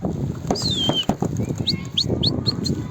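Wings flap in quick bursts amid chirping birds close by, with a few short rising calls.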